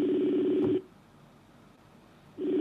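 A telephone dial tone hums steadily for under a second, stops into a quiet gap, then resumes near the end.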